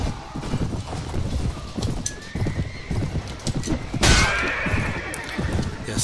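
Galloping horses thunder past in a Mount & Blade Warband battle, with rapid clip-clop hoofbeats close by, mixed with neighs and the clash and bustle of combat.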